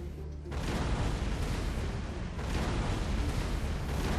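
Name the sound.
grand battery of 70 cannons bombarding Gratzen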